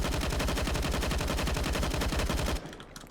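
Rapid sustained automatic fire from a P90 in Counter-Strike, a dense loud burst of shots lasting a few seconds before cutting off abruptly into quiet.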